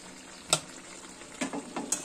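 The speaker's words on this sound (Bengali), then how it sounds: "আলুগুলো দিয়ে ভালো করে নাড়িয়ে টাড়িয়ে একটু ঢাকা দিয়ে দেবো।" Chicken and potatoes frying in a pan for a Bengali chicken curry, a faint, soft sizzle with a sharp clack of a utensil near the start, then a few scraping stirs and another clink near the end.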